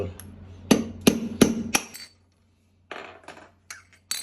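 Four sharp hammer strikes driving a nail into a brittle clay cup ring out in quick succession, followed by a pause and a few lighter clinks.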